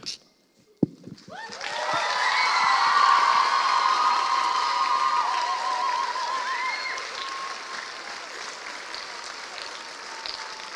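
Audience at a school production of Matilda The Musical Jr in Dubai breaks into a big round of applause for the cast, swelling quickly into loud sustained clapping and cheering that slowly thins toward the end.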